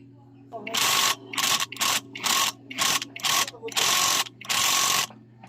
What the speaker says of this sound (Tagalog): Gamit ang ating 17mm na socket at air electric impact wrench.